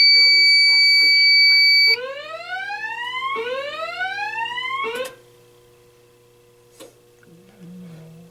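Building fire alarm sounding: a steady high electronic tone for about two seconds, then three rising whooping sweeps, followed by quieter background with a brief click and low hum.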